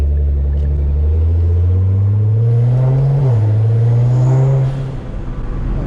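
A Nissan GT-R R35 engine revs up close with a deep, loud rumble that climbs in pitch, dips briefly, holds, then drops away near the end.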